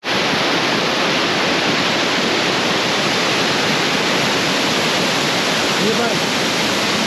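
Waterfall in Switzerland pours into a lake, a loud, unbroken roar of rushing water that fills the whole span with dense, even noise and no breaks.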